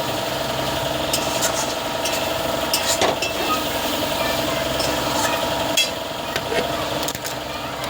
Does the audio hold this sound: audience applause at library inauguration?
no